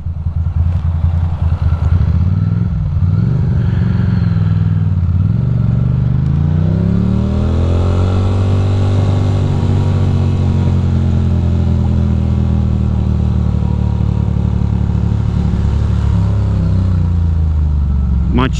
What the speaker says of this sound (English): Much traffic, much confusion.